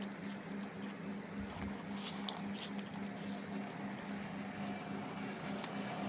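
Freshly washed clothes are wrung out by hand, letting water trickle and patter down in a soft, steady stream with a few splashy drips, close but fairly quiet, with no talking.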